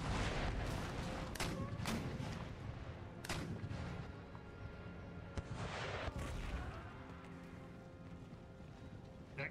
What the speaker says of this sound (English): fire round shot with the howitzers